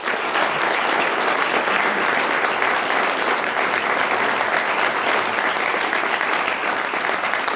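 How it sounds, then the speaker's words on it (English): Steady audience applause at an award ceremony honoring a newspaper, dense and continuous clapping from a crowd filling the whole stretch without pause. "Let's give them a round of applause."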